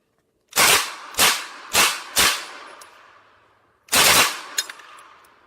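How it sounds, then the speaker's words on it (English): Semi-automatic fire from a Burletta M38A assault rifle: four loud, sharp shots about half a second apart, each trailing a decaying echo, then a pause and a fifth shot with a longer ringing tail. "We'll start doing a couple of semi-automatic shots first."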